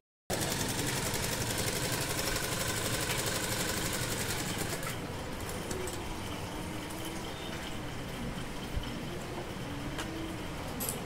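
A sewing machine stitches silk fabric along a straight edge, a continuous rapid mechanical rattle that runs unbroken and then eases to a slightly lighter whir partway through, with no voices.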